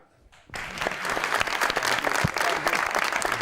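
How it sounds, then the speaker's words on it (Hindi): Applause from a studio audience on a Pakistani TV talk show as the guest, cricketer Kamran Akmal, is welcomed, starting abruptly after a brief quiet moment and continuing steadily and loudly. "तालियां"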